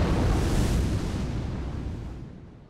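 A dragon in Dark Souls Remastered breathes fire: a loud, dense roaring blast that starts at full force and slowly fades over nearly three seconds, with no talking.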